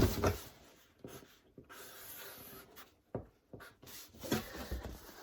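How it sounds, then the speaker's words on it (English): Hand drawing of a fish picture, with intermittent scratchy pen or pencil strokes on paper in short bursts and brief pauses, quiet and close. "Let me draw it."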